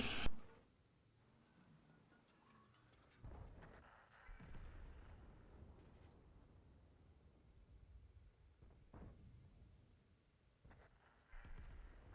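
In World of Tanks, a tank's main gun fires a single deep, booming shot followed by a muffled rumble and a few quieter thuds, heard at low level in the game mix.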